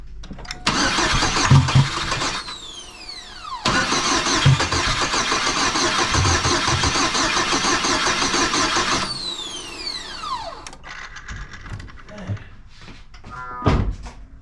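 A GMC Sonoma pickup's starter cranks in long bursts with the engine catching briefly and nearly firing before dying, heard close with a door clunk and some clatter between attempts.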